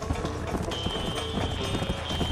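Hooves of a horse galloping in Red Dead Redemption clatter in a fast, driving clip-clop during a race, dense and loud amid game music and ambient sound.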